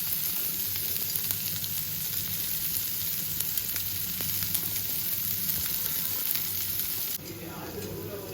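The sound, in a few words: onions and cabbage frying in a pan for paneer samosa filling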